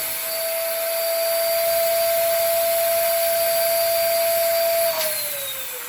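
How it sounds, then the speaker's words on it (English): Air is forced out of a balloon's nozzle in a science experiment, a loud, steady squealing whistle held at one pitch for about five seconds before it dips lower and fades. "all of the air is being forced out of the nozzle"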